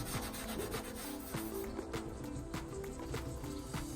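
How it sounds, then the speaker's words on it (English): A Scotch-Brite pad scuffs the body panel of a totaled Pontiac GTO under rebuild, giving a steady close scratchy rubbing with repeated back-and-forth strokes throughout. "Now we'll also Scotch-Brite this."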